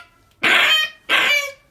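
A Kangal dog barking twice, two loud, close, full-throated barks about half a second apart with nothing else around them.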